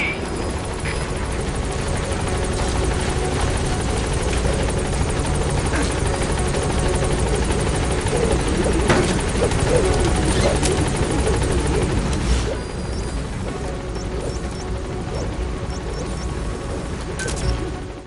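A helicopter arrives at a landing zone in Metal Gear Solid V: The Phantom Pain, a loud, continuous rotor roar that eases somewhat toward the end.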